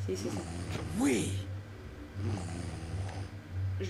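A nasal snore with a rising, wavering pitch swells up, then quieter snoring breaths follow over a constant low drone, from the video game Fable Anniversary.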